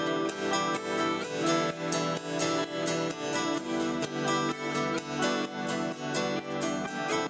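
Rhythm and lead guitar samples layered in a dance track, steady pulsing chords with a melodic lead line on top, loud and rhythmic with no voices.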